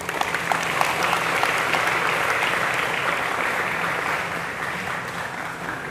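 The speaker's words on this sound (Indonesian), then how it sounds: "dan tepuk tangan untuk ini" A crowd at an Indonesian madrasah (Islamic school) gathering breaks into sustained applause, dense and fairly loud, holding steady for several seconds before easing slightly at the end.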